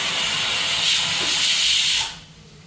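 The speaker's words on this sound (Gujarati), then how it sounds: "તો 2 વિસલ થઈ ગઈ ને હવે આપણે કુકર એમને બંધ રાખી દઈશું." A pressure cooker boiling potatoes lets out a loud, close, continuous hiss of escaping steam after whistling, which cuts off abruptly after about two seconds, leaving quiet.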